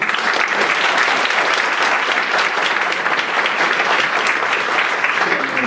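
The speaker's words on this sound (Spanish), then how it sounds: "quiero que lo reciban con un aplauso muy fuerte" Loud, dense applause from a university audience welcoming a guest speaker, continuous clapping from many hands throughout.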